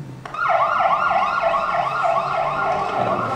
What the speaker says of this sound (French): une ambulance qui démarre un peu trop vite.